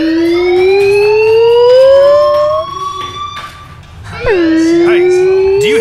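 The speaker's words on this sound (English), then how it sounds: "do you hear that fire alarm?" A loud fire alarm in the video game Life is Strange wails in rising and falling sweeps, dipping briefly in the middle before surging back close and piercing.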